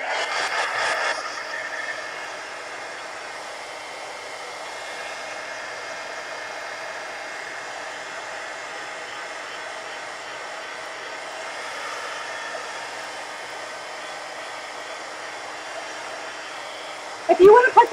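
A hair dryer runs steadily for over fifteen seconds to dry wet paint, a continuous airy whoosh at moderate loudness, with a brief louder burst near the end.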